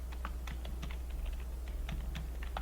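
Computer keyboard typing text at a desk, a steady run of quick, irregular key clicks heard close up, with no talking over it.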